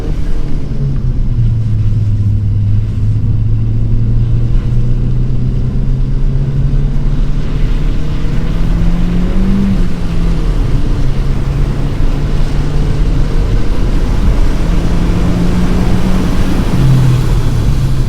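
Ford Fiesta ST hatchback with a Revo Stage 2 tune droning steadily around a wet Luddenham Raceway circuit, its engine note rising and falling through gear changes in a continuous close-up in-car rumble with no talk.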